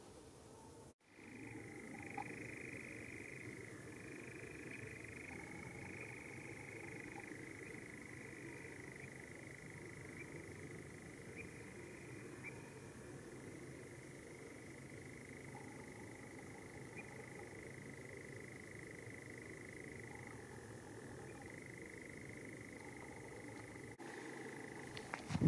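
A long, continuous mechanical churring of nightjars trills on and off at night on Brownsea Island, fairly faint and distant, over a quiet low background hum.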